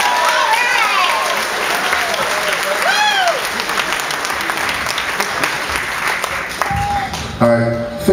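Concert audience applauding and cheering as a performer returns to the stage, loud steady clapping with whistles and shouts, voices rising near the end.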